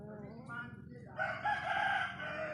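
A rooster crows nearby, a drawn-out, loud call rising after a second of softer clucking and background noise.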